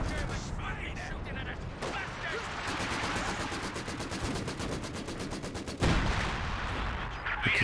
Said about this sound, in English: Base howitzer fire on the far flank.